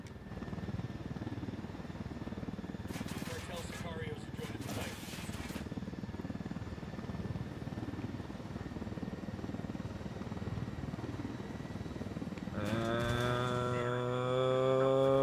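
A helicopter in the video game Ghost Recon Wildlands drones and thrums steadily throughout, with brief bursts of noise early on and a rising tonal whine near the end.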